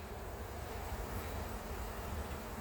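Honey bees buzz around an opened hive while honey is being pulled, a soft, steady drone with a low hum that stays faint and even throughout.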